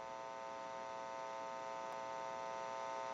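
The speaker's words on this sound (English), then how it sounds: "You may hear a little bit of an electrical hum." A faint, steady electrical hum with a buzzy harmonic tone comes from a telephone test amplifier on a Western Electric 302 rotary desk telephone under repair, continuous and unchanging throughout.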